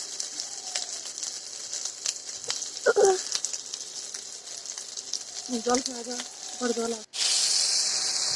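Whole cumin seeds sizzle in hot oil in a pan as a steady crackling hiss, broken by a few short bird-like chirps and a sudden louder rush of frying near the end, with a voice briefly audible.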